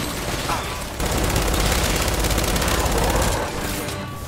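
Rapid gunfire in the Gears 5 video game aimed at snipers: dense bursts of automatic shots, loud and close, with a sharp jump in intensity after the first second and a thinner tail at the end.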